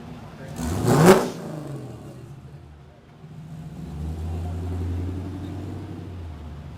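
A fully restored 1979 Chevrolet El Camino with a supercharged LS3 engine rolls past in a Kansas threshing bee parade, with a brief loud rev and then a low steady engine rumble.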